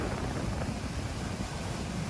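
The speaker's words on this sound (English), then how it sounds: "This shot is taken from Niagara Falls State Park on the American side, obviously, and this is one look at American Falls." American Falls at Niagara Falls State Park, heard as a steady, dense roar of falling water that blends into a broad wash of noise, loud and unbroken throughout.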